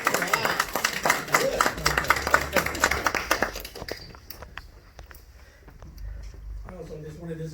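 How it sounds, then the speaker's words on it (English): At a Toastmasters charter meeting in a hall, a small audience claps in a round of applause: scattered, uneven hand claps for a few seconds that thin out and stop, followed by a speaker resuming talk. "so please a big round of applause"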